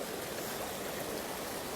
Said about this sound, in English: So we have the beautiful waterfall